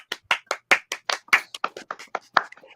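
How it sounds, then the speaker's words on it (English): Steady round of hand clapping from a small group, about fifteen sharp claps over a few seconds, close and fairly loud with a brisk, slightly uneven rhythm and no talking. "can we all get a round of applause going for DC again?"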